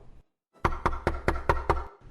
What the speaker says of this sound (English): He's just finishing dinner when there's a knock at the door.